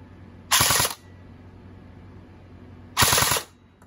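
An AEG airsoft gun firing 0.23 gram plastic BBs on full auto: two separate short bursts of rapid, sharp mechanical clatter, each lasting about half a second, close and loud against a quiet background.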